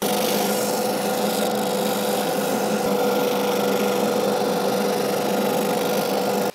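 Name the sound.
light sanding of a wooden garden stool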